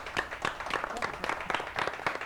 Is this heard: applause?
yes